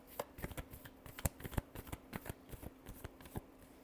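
Tarot cards are shuffled by hand in a quick series of crisp riffling slaps and flicks, close and fairly quiet, in an uneven rhythm with no talk.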